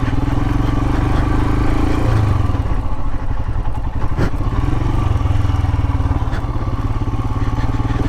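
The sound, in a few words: Royal Enfield Himalayan motorcycle riding offroad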